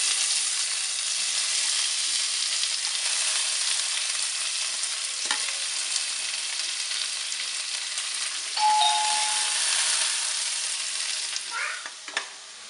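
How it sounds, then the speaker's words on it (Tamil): Onions sautéing in a pan make a steady, close sizzle and fry that runs unbroken throughout, with a brief ringing clink partway through and a few utensil scrapes near the end. "நல்லா பொன்னிறமாக வர வெங்காயத்தை வதக்கிக்கோங்க."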